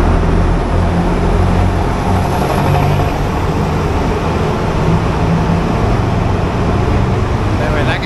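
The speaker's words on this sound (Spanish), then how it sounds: "el ruido de los carros era increíble" Dense, steady roar of car traffic while crossing a bridge in Santos, Brazil, a loud continuous rumble of engines and tyres with no breaks, heavy low end filling the whole stretch.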